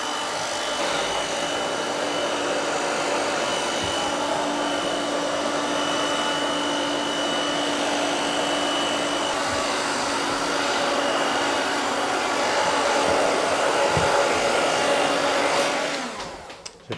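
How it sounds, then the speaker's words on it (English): A hair dryer fitted with a diffuser blows steadily on a man's hair, a loud continuous whirring hum that holds for the whole stretch before switching off at the end. "Just to encourage a little bit of that movement, I'm going to use the diffuser."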